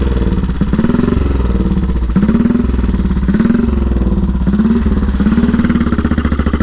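A 1934 Velocette KTT motorcycle engine running after a carburettor air-screw adjustment, close and loud, with a chugging beat and repeated rising blips of revving about once a second, alone with no talk.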